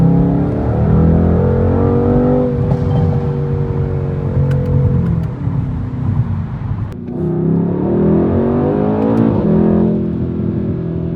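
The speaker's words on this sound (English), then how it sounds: "In race mode, the car is even more loud. It crackles more." A 2019–2020 Mercedes-AMG C63S facelift in race mode, its engine roaring loudly and continuously with rising and falling revs and exhaust crackle, close and steady throughout with no talk.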